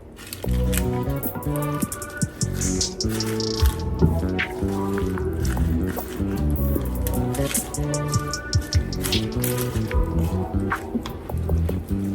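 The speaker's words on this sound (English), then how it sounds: "let this spinach wilt down and simmer for about another 2 to 3 minutes" Spinach and white bean ragu simmers in a pan with continuous soft bubbling, popping and wet squelching, close up and steady throughout.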